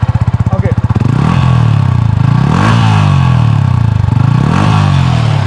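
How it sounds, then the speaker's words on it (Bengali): A Yamaha R15 V3 sport motorcycle, used and in good condition, idles with a fast lumpy thump, then revs repeatedly in rising and falling swells, loud and close, with a voice faintly underneath. "আপনারা ইঞ্জিন সাউন্ডটা বিশেষত ফলো করবেন"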